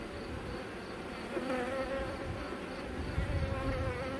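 Honeybees buzzing around an open hive, a steady, dense drone of many wings close by, with faint rustling underneath and no speech.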